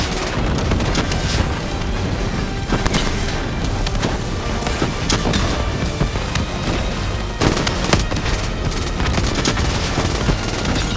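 Dense gunfire in Call of Duty: Black Ops III, loud continuous bursts of automatic weapons with booming impacts layered throughout, no clear voices.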